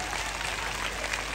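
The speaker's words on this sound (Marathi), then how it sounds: "तुम्हाला कार्यक्रम आवडत असेल ना तर ग्राहक बाजार याच्यासाठी हात वरती करून टाळ्या वाजवा." An audience at a Home Minister Khel Paithanicha show at a Sangli shop opening claps with raised hands, a dense, even wash of applause from a large crowd, steady throughout.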